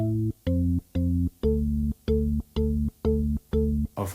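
An organ VST plugin in FL Studio plays a Kwaito trap melody, eight evenly spaced sustained chords in a steady rhythm, loud and close with no voices.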